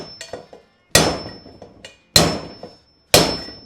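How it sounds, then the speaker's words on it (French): A hammer knocks a socket extension to drive out a BMX bottom bracket, giving three loud metallic strikes about a second apart, each ringing and decaying, after a few lighter taps. "Je prends une rallonge de douille comme celle-ci. On la met dans le boîtier de pédalier. Et on tape hein, sauvagement pour le faire sortir."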